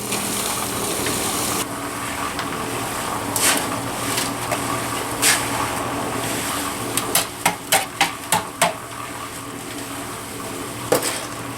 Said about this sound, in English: I'm going to poke at it a little more with my shovel while it's turning here